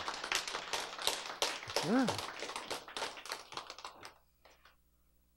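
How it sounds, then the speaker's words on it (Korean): Applause from a church congregation, a dense run of many hands clapping close by for about four seconds, with a voice speaking briefly over it before it quickly dies away. "박수 박수"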